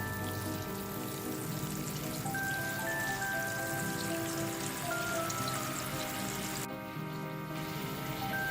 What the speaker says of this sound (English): let the soy sauce mixture come to a boil